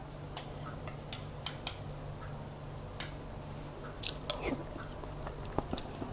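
Someone eats a Thai butterfly pea dessert of chewy dough pieces in coconut milk with young coconut and toasted sesame. Soft, close clicks of a spoon and chewing come intermittently over a faint background hum, with no talk.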